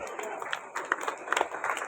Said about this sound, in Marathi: एकदम जोरात टाळ्या वाजवा